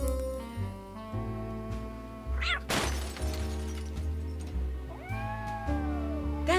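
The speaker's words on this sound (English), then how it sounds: "That's the cat Molly wants me to catch." A cat in a Nancy Drew video game gives a couple of drawn-out meows over a jazzy music track, with a sharp crash-like hit in between, no talking.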